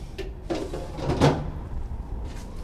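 Refrigerator crisper drawers sliding open and shut during a rental property inspection, with a couple of plastic scraping rolls and a louder thud near the middle, close by with no talk.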